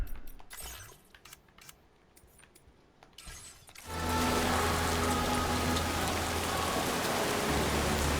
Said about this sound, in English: it's quite a busy scene here with a lot of rain and the running stream